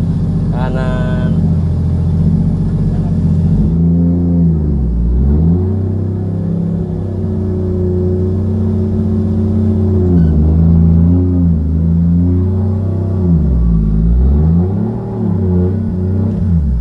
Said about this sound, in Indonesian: Kita pindahin dulu mobil ya.